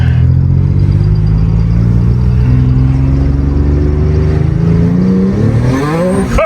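A turbocharged Acura TL Type S accelerates hard on a first full-throttle run, heard from inside. A loud, steady engine drone rises gradually in pitch, then climbs sharply at the end.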